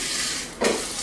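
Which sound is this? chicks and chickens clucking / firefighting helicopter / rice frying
rice frying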